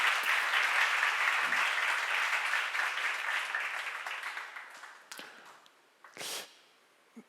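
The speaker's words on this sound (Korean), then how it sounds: "그러니까 만남의 축복을 받은 걸 감사해 박수 한번 치세요" A church seminar congregation claps together in a full burst of applause that fades out over several seconds, followed by a few isolated bumps and a short rustle.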